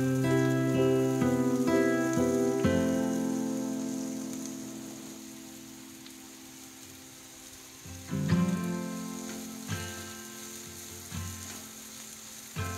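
Chopped onions frying in hot oil with dried red chillies in a pan, a steady soft sizzle under a sustained tonal background, with a few clinks of stirring near the end and no talking.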